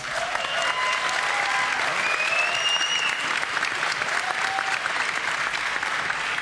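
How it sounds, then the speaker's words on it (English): An audience at a Dota 2 esports event applauding, dense sustained clapping that fills the stretch steadily and fairly near, with a few faint whistles mixed in. "So give them please a round of applause."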